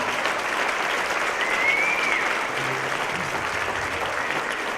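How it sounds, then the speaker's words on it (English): An audience at a Women In Trucking awards event applauds with steady, moderately loud clapping that carries on evenly for several seconds; a faint brief whistle rises and falls partway through. "How about a huge round of applause?"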